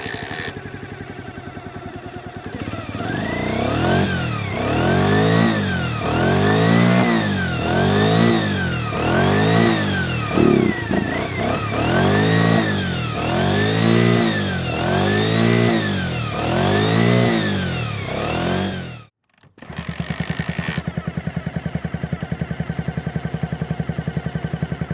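A Honda Dream AC15, a 50cc DOHC road replica of Honda's 1960s racing motorcycle that revs to 14,000 RPM, is blipped hard about ten times in a steady rhythm. Then it cuts out briefly and settles into a rough idle, loud and close.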